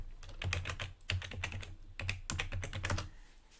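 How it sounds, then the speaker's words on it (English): Typing on a computer keyboard in an office, with quick irregular key clicks close by and no talking. "I'm just going to type it over to you."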